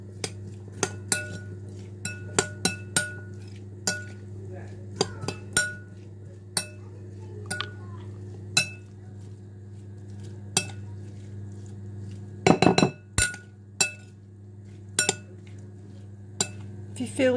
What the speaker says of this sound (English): So let's mix this up.